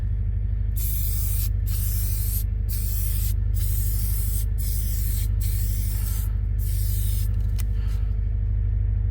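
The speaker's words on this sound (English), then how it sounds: "we're going to put a cold gal spray on" Repeated bursts of cold galvanizing aerosol spraying, a loud hissing in several pulses with short pauses, over a steady low engine-like rumble.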